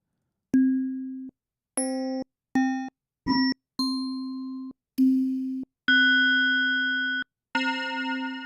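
Synthesized bell kit tones played as a series of separate struck notes with varied timbres, some short and clipped, others sustained, with brief silences between and no talking.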